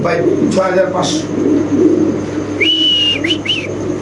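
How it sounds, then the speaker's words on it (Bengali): Show-quality Spanish and Indonesian Mundian pigeons at a market give soft coos and short calls, heard close up under steady talk from men discussing the birds. "সো দর্শক এখানে আছে একদম সুপার কোয়ালিটির কবুতর"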